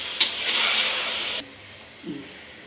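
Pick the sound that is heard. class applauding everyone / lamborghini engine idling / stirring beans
stirring beans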